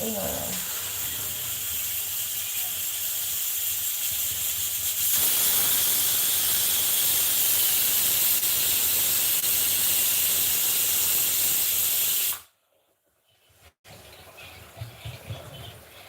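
A pressure cooker cooking meat vents steam in a loud, continuous high hiss that swells midway, cuts off abruptly, then gives way to quieter kitchen clatter.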